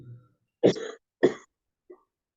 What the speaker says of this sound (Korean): 그렇게 기침만 콜록하고